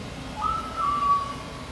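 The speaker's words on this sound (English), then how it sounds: "There's your beeps and whistles." A short electronic whistle from a BJ's store robot, two thin high tones sliding in pitch, over a low steady background hum.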